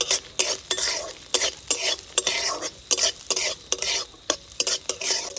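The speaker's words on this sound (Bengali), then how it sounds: "নারকেল কাজু কিশমিশ খুব ভালোভাবে ভাজা হয়ে গেছে" Coconut shreds, cashews and raisins fry in mustard oil in a wok, with a soft sizzle under repeated rhythmic scrapes and stirs of a metal spatula.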